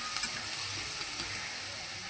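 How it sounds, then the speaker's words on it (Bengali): Vegetables sizzling in fish oil in a pan, with flat beans and eggplant in the mix, a steady, even hiss of frying close up with no talking. "বেশ কিছুক্ষণ নাড়াচাড়া করে ভেজে নেব"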